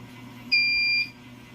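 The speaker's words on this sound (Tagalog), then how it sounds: "So, nag-alarm yung inverter natin." An inverter alarm on a HIMARK SVR-1000VA voltage regulator sounds a single steady electronic beep of about half a second, loud and close over a low electrical hum.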